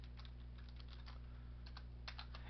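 Soft, fairly quiet clatter of computer keyboard typing as HTML tags are entered into a wiki page, a steady run of keystrokes with a brief pause and then a louder cluster, over a constant low electrical hum.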